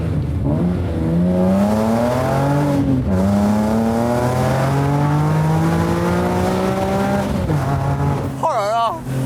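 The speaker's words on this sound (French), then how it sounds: "la douce mélodie, les gars, du petit moteur, le S54 B32 dans la forêt" BMW M3 with the S54 B32 inline-six revving hard in a forest, its tone rising in long climbing sweeps with brief drops between pulls, loud and close, with someone talking over it and a sharp squeal near the end.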